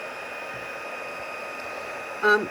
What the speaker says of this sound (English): And then I'll just go in with my heat gun and just set that.